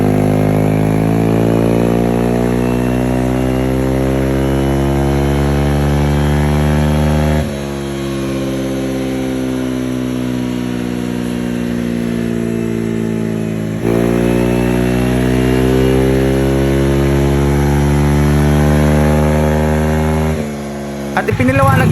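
A Honda Genio scooter engine idles and revs in a workshop during ECU remapping, a steady loud droning tone with pitch steps up and down between sustained holds, cutting briefly near the end.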